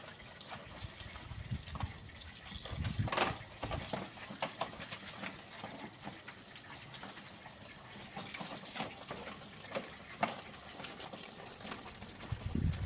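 Water sprays and gushes steadily while an Ashok Leyland mini truck is being washed. The hiss is constant and interrupted by occasional splashes and knocks.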